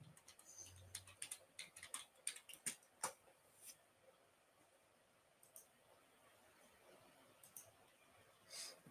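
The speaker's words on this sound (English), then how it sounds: "I'll just type it in." Someone types in bursts of clicking keystrokes on a computer keyboard. The keys are heard close but faint, with irregular pauses, and the typing thins out toward the end.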